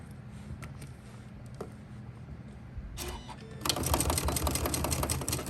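A Janome sewing machine stitches a vinyl boxy pouch, starting with a brief burst and then running steadily in a fast, close mechanical whir. Faint background noise sits underneath.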